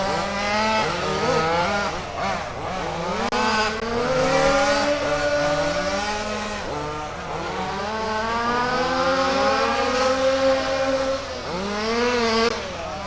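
Race cars in the RAMS FG Supply Series circle the track at Warm Springs, their engines climbing and dropping in pitch as they accelerate down the straight and pass, a continuous layered roar from several machines.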